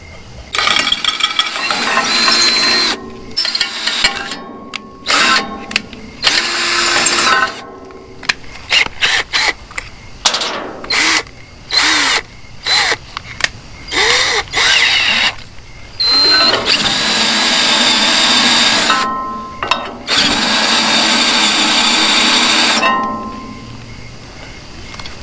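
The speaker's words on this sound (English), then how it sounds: "So let me drill these holes here." A power drill bores holes through a metal trailer light bracket in repeated loud bursts, each whine starting and stopping, with clinks of metal parts between them and no talking.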